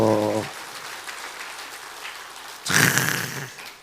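Applause breaks out in a church service after a short musical tone, a lighter patter at first that swells into a louder, denser round of clapping toward the end.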